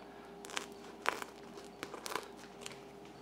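Scissors crunch through stiff sound deadening material in a handful of short, irregular snips, close and quiet, with no talking.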